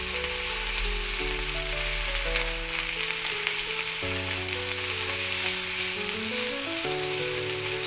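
Onion-tomato masala with garam masala and salt sizzling hard in a pan for palak paneer, a loud continuous hiss of frying with no voices, while a steady layered hum runs underneath throughout.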